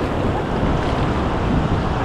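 Sea surf rolls and crashes continuously at Cox's Bazar beach, loud and broadband, mixed with heavy wind buffeting on the microphone and no voices.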